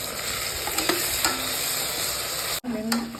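Ginger garlic paste stirred into frying onions for a vegetable biryani, a steady sizzle with scraping spoon strokes, a brief dropout near the end, then renewed sizzling.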